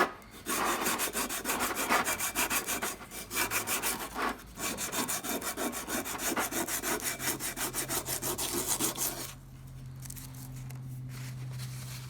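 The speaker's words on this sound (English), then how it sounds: "I've taken emery cloth to this and to this and smoothed that all out." Emery cloth rasps back and forth over metal vise parts in quick, even strokes, a close, scratchy rubbing that pauses briefly twice and then stops, leaving a quiet low hum.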